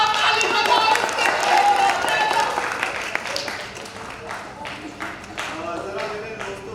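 A theatre audience at a drama festival claps in a fairly loud burst that gradually thins into scattered, uneven claps, with a voice speaking over part of it.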